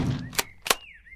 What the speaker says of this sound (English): beta shotgun sounds different, but sounds more louder